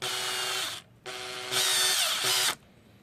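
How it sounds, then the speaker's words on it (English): A power drill spins in short bursts while its chuck is tightened on a drill bit, three close whirring runs separated by brief pauses, the last one higher and louder. "Let me get this drill bit securely tightened again."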